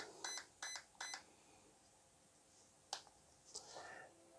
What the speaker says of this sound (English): Okay, that brings it to four beeps